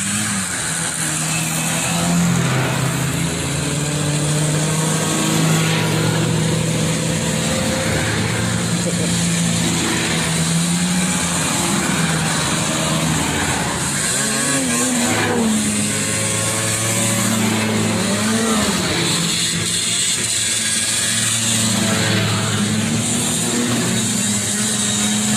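A vintage snowmobile engine revs loudly and steadily as a rider sets off, continuous droning motor noise with rising and falling pitch, people talking underneath.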